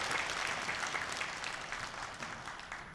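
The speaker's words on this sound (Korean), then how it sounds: "하나님께 영광의 박수 올려드리겠습니다." Church congregation applauding together at a Sunday worship service, a dense, steady clapping that fills the room for the whole moment and fades slightly at the end.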